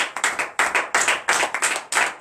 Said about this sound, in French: Donnez l'acclamation à l'Éternel.